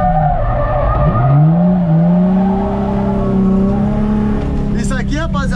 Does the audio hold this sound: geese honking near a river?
no